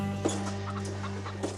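Chickens cluck softly at a coop on a farm in Tasmania, a few brief, close clucks over a low steady hum, with no talking.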